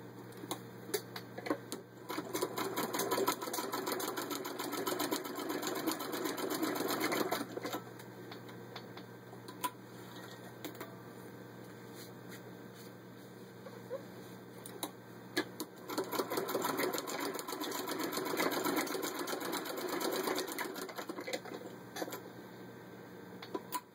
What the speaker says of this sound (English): I've got 6 layers of denim.